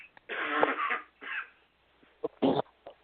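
Someone coughs several times close up: a longer rough cough first, then a shorter one, and a final sharp burst after a brief pause.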